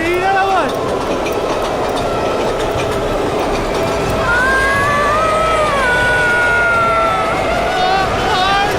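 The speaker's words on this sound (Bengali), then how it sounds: "জামিনী, ট্রেনের দিকে তাকিও না।" A train rolls past steadily throughout at a junction, a continuous loud rumble with faint rail clatter, while voices talk over it and a tonal whistle-like sound rises midway.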